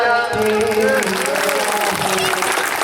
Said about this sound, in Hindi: आओ अब आपसे निवेदन है ताली बजा